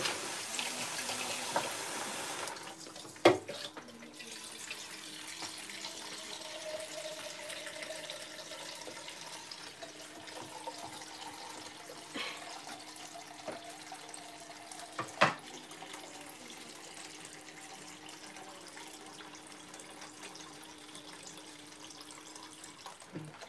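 Filtered water runs from a tap into a cooking pot while fried fish is being prepared, with a steady low stream and a couple of sharp knocks from handling the pot.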